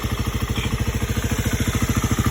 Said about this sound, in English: let's get a sound check on the 26 KLX300